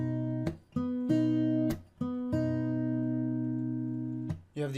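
Measure 132 of a song played fingerstyle on acoustic guitar, pairing open strings struck together with crisp percussive slaps, the chords sustaining between hits in a close, clean, unaccompanied phrase.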